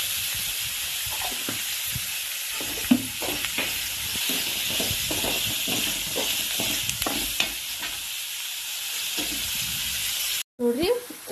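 Chopped onions sizzle and crackle steadily in hot oil in a pan for bread pakoda, with a spoon scraping and stirring through them and a short clatter near the end.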